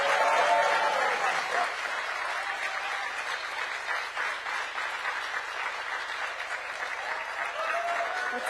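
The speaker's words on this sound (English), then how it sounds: "Please give Aisha a big round of applause." Sustained applause from a large audience, a dense wash of clapping that fades slightly after the first seconds then holds steady.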